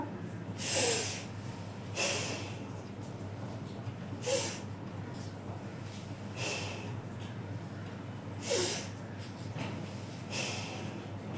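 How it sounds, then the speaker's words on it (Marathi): Deep breaths drawn in and pushed out during a home belly-fat workout, five or six breathy rushes spaced about two seconds apart, close and fairly soft over a steady low hum. "दीर्घ श्वास घ्या दीर्घ श्वास सोडा"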